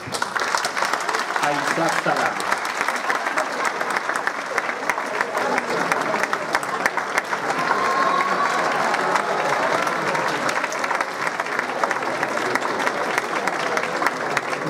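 Audience applause welcoming a speaker to an honoring event, dense continuous clapping and crowd noise throughout, with a voice briefly speaking near the start.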